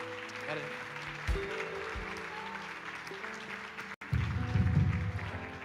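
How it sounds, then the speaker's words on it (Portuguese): Congregation at a church couples' night giving a round of applause to the Lord, a broad wash of clapping with a low rumbling swell toward the end and faint voices mixed in. "Dê uma salva de palmas ao Senhor."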